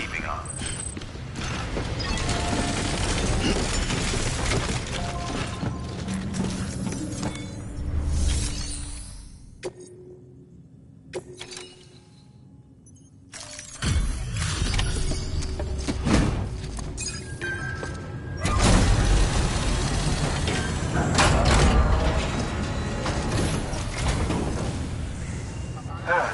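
Decontamination machinery whirs, clanks and ratchets through a sequence in the Death Stranding video game, with a quiet lull midway before loud mechanical churning resumes, while a voice speaks over parts of it.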